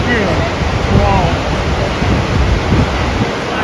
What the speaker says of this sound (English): Actually, it's not raining by itself when the water is striking the rocks and it's spread all into the atmosphere.